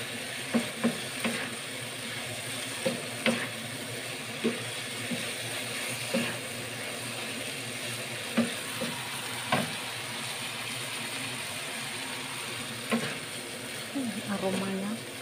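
Green chilies and spring onions stir-fried in a pan: a continuous soft sizzle broken by a dozen or so sharp scraping clacks of a utensil against the pan at irregular intervals.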